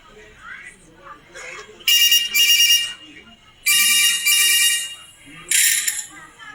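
A telephone rings in a Bengali audio drama, three loud bright electronic bursts separated by short gaps, with faint voice-like sounds underneath between rings.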